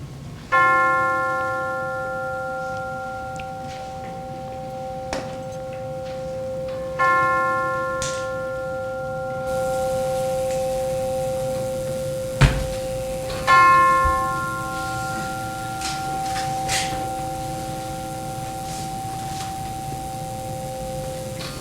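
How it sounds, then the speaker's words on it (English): Resonant chimes are struck a few separate times during a Unitarian church service, each ring clear and sustained before slowly fading and overlapping the next, with no talking. "let the sound of the chimes"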